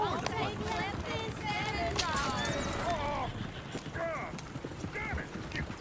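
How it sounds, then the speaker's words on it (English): Game horse hooves clip-clopping at a steady trot during a story-mode train robbery, mixed with voiced game dialogue and other background effects. "Alright, I'm getting the horse."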